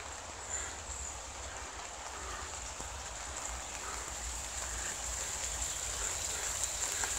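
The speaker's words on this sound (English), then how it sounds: "the rain's coming down again" Steady rain falls outdoors in a garden by a pond, a continuous broadband hiss with a soft rushing wash that holds evenly throughout, with no voices over it.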